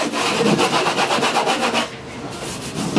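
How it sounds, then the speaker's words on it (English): Coarse 80-grit sandpaper rubs hard across a parchment surface in quick, loud, regular back-and-forth strokes, close up, then stops briefly before one more stroke begins. "I'll actually scour the surface. It's probably A little, like maybe an 80 grit."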